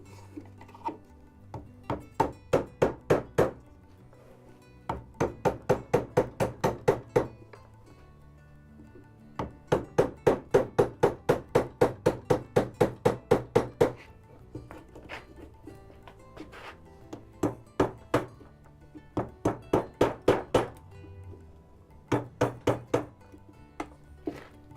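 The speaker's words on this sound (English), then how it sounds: "Instead of hitting it hard with the mallet" Rapid bursts of sharp mallet blows drive a chisel through dovetail pin waste in wood for a splayed stool, each volley of eight to twelve crisp knocks separated by short pauses, close and loud with no talking.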